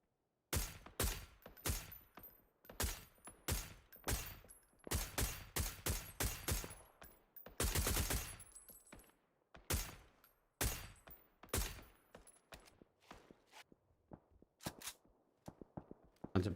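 Rapid gunfire in the PUBG video game during an esports match: loud, sharp shots in irregular bursts, including one dense automatic volley, separated by short gaps, with no voices over it.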